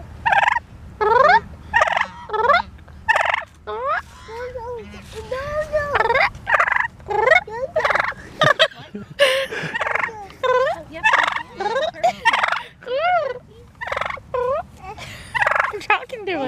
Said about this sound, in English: You're talking to the turkeys.